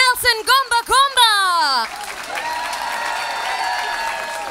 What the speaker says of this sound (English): Please give a massive round of applause for this next act.